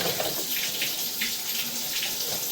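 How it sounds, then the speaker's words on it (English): Water runs steadily from an open tap, a continuous close splashing rush with no voices. "a lot of this stuff is finally breaking loose from all this water running"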